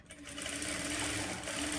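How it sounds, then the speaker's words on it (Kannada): A sewing machine runs continuously at close range, whirring steadily as it puts a double line of stitching along the lining of a blouse. "ಡಬಲ್ ಹೊಲಿಗೆ ಹಾಕ್ಕೊಳ್ಳಿ, ಸಿಂಗಲ್ ಹೊಲಿಗೆ ಹಾಕ್ಕೊಳಕ್ಕೆ ಹೋಗಬೇಡಿ"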